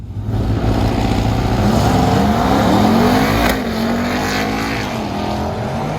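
A Ram TRX pickup truck drag racing on asphalt, its big engine roaring loudly and rising in pitch as it accelerates, then easing off into a lower, steadier drone.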